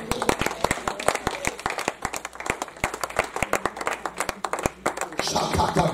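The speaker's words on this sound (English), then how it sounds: "do a clap for this woman" A church congregation claps for a woman during a worship service, with quick, rhythmic, fairly close handclaps that continue steadily and swell near the end, mixed with crowd voices.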